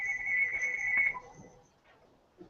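A phone ringtone plays loudly and steadily for about a second, then stops, leaving a quiet pause before faint movement at the end.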